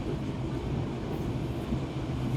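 Steady low rumble and rattle of the Yangon–Mandalay train of Myanmar Railways while riding aboard, a continuous close, even roar of wheels and carriages with no break.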